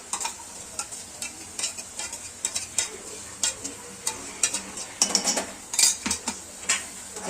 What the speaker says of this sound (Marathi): तर हिरवा मसाला भाजायला टाकलाय, तळायला टाकायला आहे.